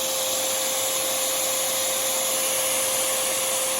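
Hammer drill locked on and spinning at its lowest speed, a loud, unbroken whirring motor roar with a steady whine, close and without any voices.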